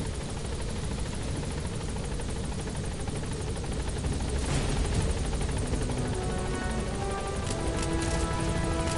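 The Pequod helicopter in Metal Gear Solid V: The Phantom Pain, caught in a sandstorm, makes a continuous rotor and engine drone mixed with rushing wind. The noise thickens and pulses slightly near the end.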